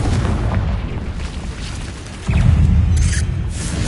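A Confringo blasting spell from the video game Hogwarts Legacy bursts into a deep, loud explosion partway through, its rumbling boom swelling over a steady roar of combat noise and lingering to the end.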